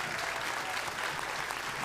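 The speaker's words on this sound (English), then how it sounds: "So a round of applause for them," An audience at a live comedy Q&A show in Nashville applauds the restaurant servers, a steady, dense burst of crowd clapping sustained for a couple of seconds with no talking.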